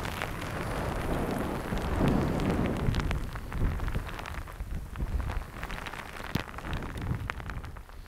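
Heavy, cold rain falls outdoors during winter pike fishing from the bank, a steady dense patter with scattered sharper drops, close and moderately loud with no voices.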